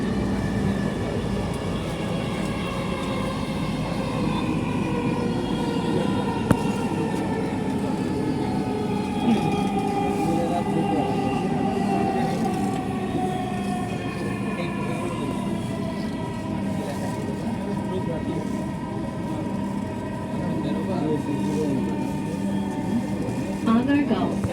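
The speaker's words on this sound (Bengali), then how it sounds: "সুন্দর একটা যাত্রা উপভোগ করলাম ঢাকার এই মেট্রো রেলে" Steady rumble of a Dhaka metro rail train riding between stations, heard from inside the carriage, with a continuous low drone and faint rising and falling whine throughout and no speech.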